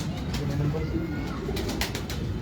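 Pigeons give low, rolling coos close by in a steady, overlapping murmur, with faint voices in the background.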